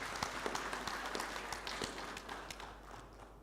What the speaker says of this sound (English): So can we clap for ourselves?